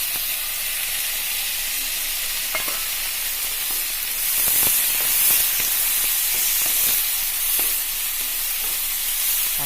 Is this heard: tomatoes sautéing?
yes